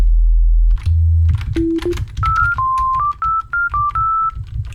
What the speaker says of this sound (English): Classic sine sound.